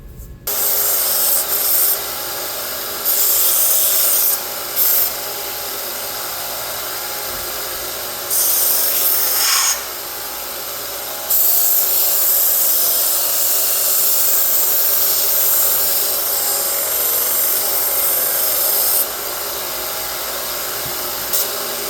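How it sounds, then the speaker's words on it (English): A length of round metal bar being cut into pins for welding, with long sustained grinding bursts that stop and restart several times, loud and close throughout with no talking. "I'm going to go ahead and use that and just cut a couple lengths of it"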